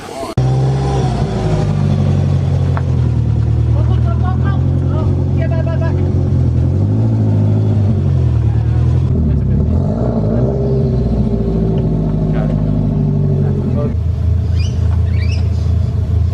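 A car engine idles steadily after an idle fix, with a low, even rumble throughout, some voices and small clicks faintly audible over it.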